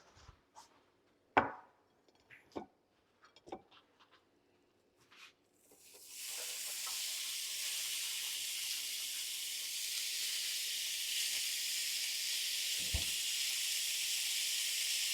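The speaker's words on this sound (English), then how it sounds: "We're going to start browning our ground beef" Ground beef browning in a pan breaks into a loud, steady sizzle partway through and keeps hissing evenly to the end, preceded by a few sharp knocks and clatters of cookware in near silence.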